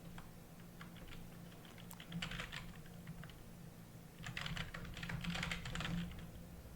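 Computer keyboard typing: quiet, rapid clusters of key clicks in two bursts with a brief lull between, soft and close over a faint steady room hum.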